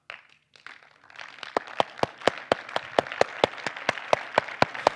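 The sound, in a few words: audience clapping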